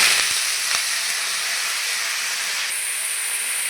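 Potatoes frying in hot oil in a wok, a steady close hiss and sizzle that fills the clip from start to finish, with a few light clicks of contact near the beginning and no talking.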